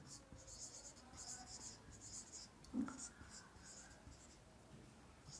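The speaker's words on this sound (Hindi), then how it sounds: "अब मैं सेंटेंस लिखता हूं" Marker or chalk scratching across a classroom board as a sentence is written out during an English grammar lesson, a series of light, quick strokes and taps in a steady rhythm with faint room noise behind.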